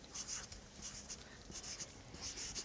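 A pencil or pen writes a sentence by hand on paper, giving quiet, close scratching strokes in short bursts.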